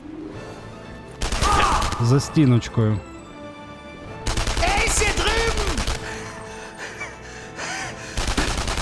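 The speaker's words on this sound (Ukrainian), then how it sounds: "він в мене стріляє" Gunfire in the World War II shooter Enemy Front comes in loud, dense bursts of rapid shots, separated by brief quieter gaps, with a voice speaking between the volleys.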